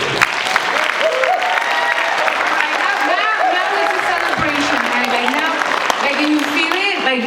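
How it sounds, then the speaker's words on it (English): Audience applause fills a Native American Education Program convocation for the class of 2023, a dense, steady roar of many hands clapping that stays loud and close throughout, with scattered cheers and voices mixed in. "Can we get an applause, please?"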